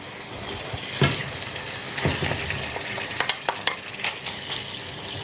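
Shrimp frying in oil in a pan, a steady loud sizzle with crackles and scattered sharp pops, close by and continuous, with occasional stirring clatter and no talking.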